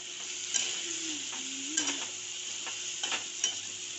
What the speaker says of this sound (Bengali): এখন এটাকে আমি ভাজা ভাজা করব।